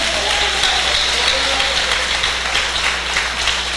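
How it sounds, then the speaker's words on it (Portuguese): A church congregation breaks into sustained applause during a sermon, a dense, even roar of clapping filling the room with no speech over it. "agora solte a Bíblia e aplauda Jesus de Nazaré."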